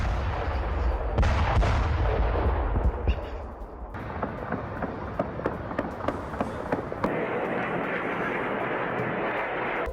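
Iranian missile strikes hitting residential areas in Israel: heavy broadband rumbling with repeated sharp explosive cracks, a loud burst early on, then a run of quick impacts around the middle and a sustained roar toward the end, no voices.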